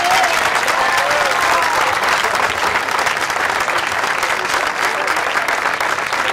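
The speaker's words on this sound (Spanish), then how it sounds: "fuerte el aplauso" Steady applause from an audience at an awards ceremony at a hospice in Argentina, dense continuous clapping filling the room at a loud, even level throughout.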